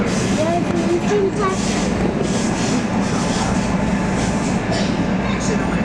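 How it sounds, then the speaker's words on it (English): A freight train hauling two CP Rail units and two rebuilt NS-9 AC44C6M locomotives rumbles past near Denver, with a steady, loud roar of rolling cars and engines throughout and faint tonal squeals early on. "In addition to the two CP rail units, there are also two rebuilt NS-9s, both classified as AC44C6Ms."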